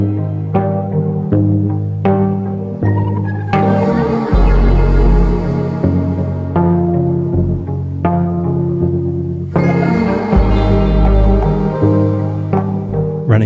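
A music sample run through a mixer with spring reverb plays alone: sustained harmonic chords and bass notes in distinct sections with sharp rhythmic attacks, and a washy, springy tail ringing behind each hit.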